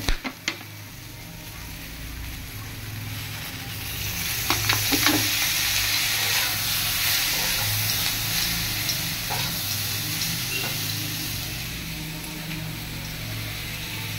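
Oil sizzling in a pan while frying, a steady close hiss that rises after a few light knocks at the start and continues evenly, with occasional faint stirring clicks.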